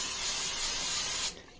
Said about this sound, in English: So give it a little spray.